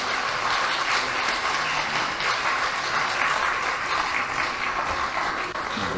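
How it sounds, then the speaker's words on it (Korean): An audience at a church prayer meeting and lecture claps steadily to welcome a speaker, dense and sustained for several seconds with no talk over it. "이제 이 박사님 나오실 때 여러분 뜨겁게 박수하면서 환영을 해주시기 바랍니다"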